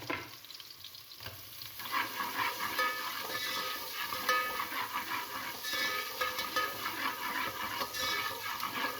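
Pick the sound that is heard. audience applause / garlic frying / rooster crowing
garlic frying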